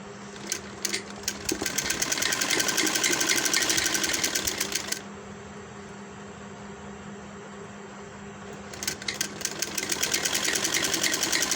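An electric sewing machine stitches a V-neck garment in two steady whirring runs, one at the start and one at the end, with a quieter humming pause in between, heard close and alone.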